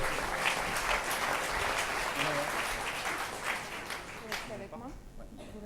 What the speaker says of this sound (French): Bravo, on peut les applaudir.